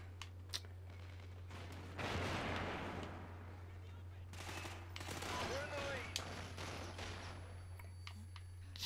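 Gunfire in Call of Duty: Ghosts multiplayer, heard as bursts of rapid shots and a loud sustained volley in the middle, over a steady game hum with occasional talk.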